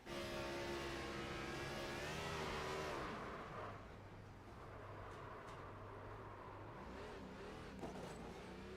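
A stock car engine in the iRacing simulation at Las Vegas Motor Speedway screams at high revs, then drops in pitch and drones on as it settles at steady speed, loud and continuous with no talking.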